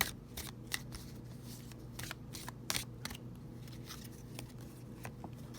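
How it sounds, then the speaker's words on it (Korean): Tarot cards being shuffled close by, soft papery riffles and flicks with a few sharper snaps over a quiet steady room hum, no voice. "그럼 먼저 타로 카드로 뽑아볼게요"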